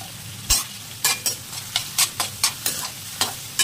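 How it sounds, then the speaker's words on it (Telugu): Onions fry with spices in a pan, a soft sizzle broken by about ten sharp scraping stirs at an uneven, roughly half-second rhythm, close and alone. "ఇప్పుడు ఇందులో ఆనియన్స్ వేసుకోవాలి. ఉల్లిగడ్డ మాడకుండా కొద్దిగా సాల్ట్ కలుపుకోవాలి."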